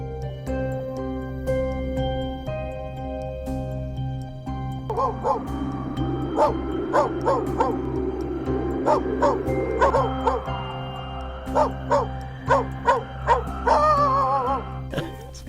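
Ranch guard dogs bark and yip repeatedly over a steady low hum, a run of short evenly spaced barks growing busier midway and ending in a whimpering, wavering yelp, moderately close.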